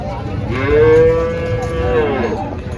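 A single long, drawn-out moo from a cow at a cattle market in Chalisgaon, India, rises over a low murmur of background noise, close and loud.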